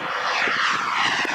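A Viperjet model jet plane flies a four-point roll, its turbine roaring loud and steady overhead with a broad, unbroken whoosh throughout.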